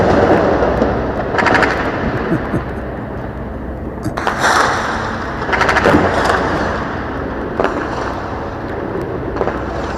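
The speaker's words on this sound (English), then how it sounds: "Should I lower the gun shooting?" Gunfire sound effects play over a live stream, with bursts of machine-gun-like rattling set within a continuous noisy background that runs throughout.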